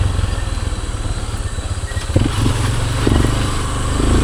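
Off-road motorcycle engine running nearby with a steady pulsing putter, slight rise in revs partway through, no talking.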